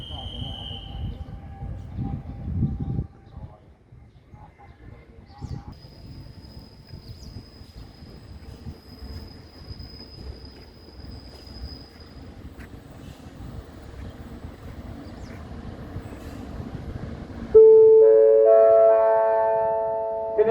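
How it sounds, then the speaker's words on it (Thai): A special express train rolls into Den Chai station in northern Thailand with a low rumble and a squeal, followed near the end by a loud melodic chime from the station announcement system. "นี่ก็จะเป็นกระบวนรถด่วนพิเศษที่ 8 นะครับผม"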